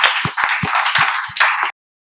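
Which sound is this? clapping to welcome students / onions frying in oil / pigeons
clapping to welcome students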